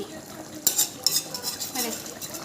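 Spoon stirring an Assamese local chicken curry in a pot, with a few sharp metallic scrapes and clinks against the pot over a soft simmering background.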